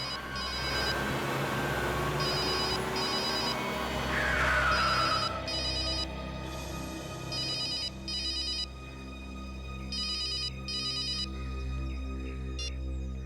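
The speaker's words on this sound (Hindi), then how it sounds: "सर आपका फोन बज रहा है।" A telephone rings in repeated electronic trilling bursts, steady and fairly loud, over a low background hum.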